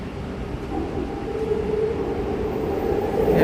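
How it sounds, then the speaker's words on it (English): An inbound SkyTrain on Vancouver's Expo, Millennium or Canada Line arrives with a rising rumble and a steady tonal hum that grows louder over several seconds, with no talk. "inbound SkyTrain."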